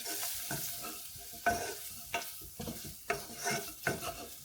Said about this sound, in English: 1 tablespoon of plain flour going into here, and we're just going to cook that out for about a minute.